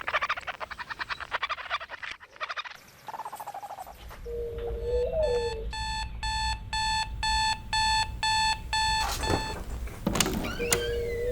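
An alarm clock rings with a steady series of loud electronic beeps in evenly spaced pulses, preceded by shuffling and rustling and followed by a few sharp clicks and movement sounds.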